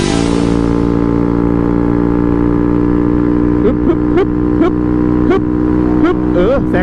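Honda Wave motorcycle exhaust revving hard while overtaking a pickup, a steady close engine drone with rising and falling pitch sweeps as the throttle is twisted, with wind and a voice talking over it.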